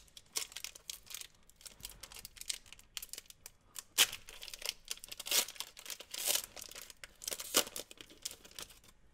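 Pokemon Burning Shadows card pack wrappers crinkle and tear in bursts, with close, fairly quiet rustling and a few sharper rips spread across the stretch.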